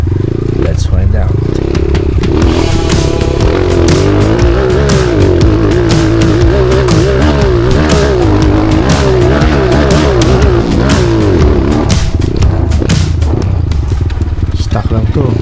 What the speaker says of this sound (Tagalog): Gusto nyo bang malaman kung gaano kalakas ang KO T4 250cc sa akyatan?